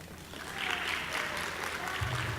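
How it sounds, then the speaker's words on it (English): Soft, fairly distant applause from an audience at an arts showcase for a pianist, a steady wash of clapping that swells after the first half second and holds with a low thump near the end. "let's give her a round of applause"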